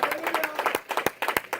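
Clapping in a church congregation as applause for the Lord, a brief close burst of rhythmic hand claps with sharp, regular beats.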